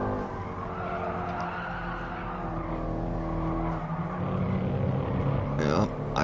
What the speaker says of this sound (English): Here I'm going back to my drifting routine, and essentially drifting and engine braking